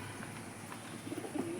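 Pigeons coo softly at a pigeon sale, a few low murmuring calls over steady background noise, faint and close together.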